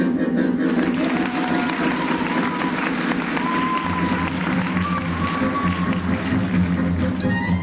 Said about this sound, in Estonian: Paneme käed plaksuma tema poole.